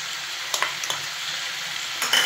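Spring onions stirred and frying in a hot pan make a constant bright sizzle, broken by a few quick spatula scrapes and a louder stirring burst near the end, heard close up with no speech.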